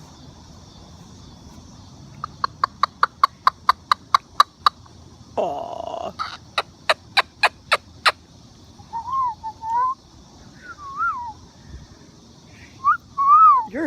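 Moluccan cockatoo calling outdoors on a walk near a tree: a rapid run of sharp repeated chirps, a harsh squawk, another burst of clicks, then wavering whistled calls, close and clear with a brief spoken exclamation.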